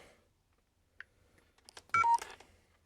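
A mobile phone gives short electronic beeps as it powers down, a brief tone near the start and then a louder cluster of bleeps toward the end, heard close with no talking.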